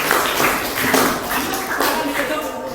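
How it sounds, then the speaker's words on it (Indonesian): Classmates in a classroom applaud after a group performance, a steady wash of many hands clapping at moderate loudness for nearly three seconds, with murmuring voices underneath. "Kasih tepuk tangan buat teman-teman."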